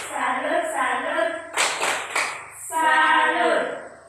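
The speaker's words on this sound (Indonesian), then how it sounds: "Tepuk tangan dulu untuk kita semua." Students in a classroom break into several short rounds of hand clapping, bursts of applause alternating with children's voices chanting and speaking in between.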